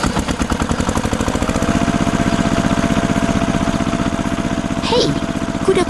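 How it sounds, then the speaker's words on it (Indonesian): A steady, throbbing tractor engine in a farm cartoon chugs close by with a regular low pulse, running continuously without pause. "traktor merah sedang bekerja keras"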